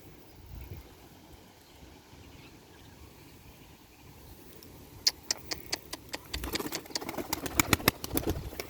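Pigeons at the Edirnekapı pigeon market in Istanbul: quiet outdoor ambience at first, then a run of sharp, rapid clicks and flutter-like bursts that grows louder and denser toward the end.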